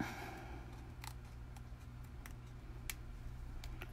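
A few sharp, sparse snips of Close to Your Heart scissors cutting paper, faint and close, over a steady low hum with no talking.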